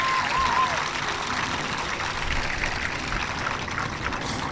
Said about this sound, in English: Please give this video crew a round of applause